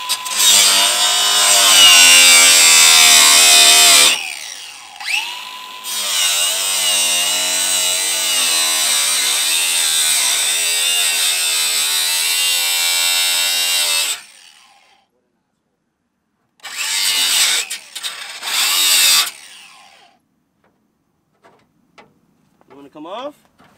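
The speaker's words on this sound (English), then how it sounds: "Power tools." A loud power tool cuts into a BMW E36 car body, grinding and whining steadily for several seconds, stopping briefly, running again, then cutting out, leaving near silence with a couple of short bursts.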